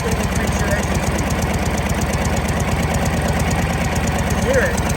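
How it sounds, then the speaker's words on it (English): A Knucklehead motorcycle engine runs loud and close with a steady, rapid thumping idle that gradually speeds up as its carburetor is leaned out. "you hear the engine start to speed up. That means I'm leaning out"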